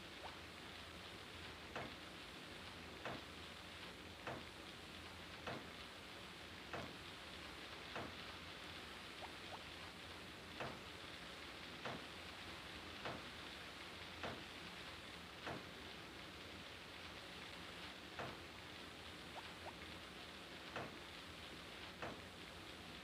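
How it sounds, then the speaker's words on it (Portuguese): Rain falls in the Game Boy Advance farming game Harvest Moon: Friends of Mineral Town as a steady, soft hiss, with faint ticks recurring at a regular pace throughout and no voices. "Pô, tá chovendo, tá refrescando"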